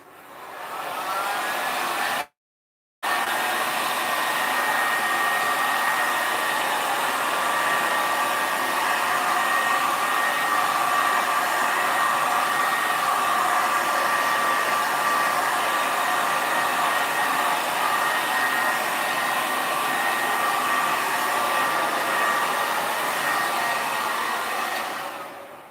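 A heat gun blows hot air over resin in a steady, loud, close whoosh that runs nearly half a minute. It cuts out briefly near the start, then resumes without change.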